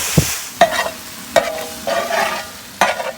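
Tomato with ginger-garlic being stir-fried in a pan for Andhra-style tuna fry, with four distinct spatula scrapes and clanks against the pan over a steady soft sizzle.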